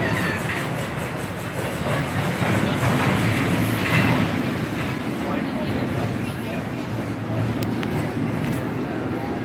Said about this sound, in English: there goes another group of happy riders on the Joker